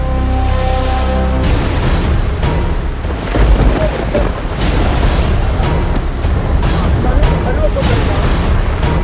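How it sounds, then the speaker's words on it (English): Heavy rain pours down with rumbling thunder during a night walk outdoors among broken branches and trees, a loud, constant roar that fills the whole stretch. "Because it's raining"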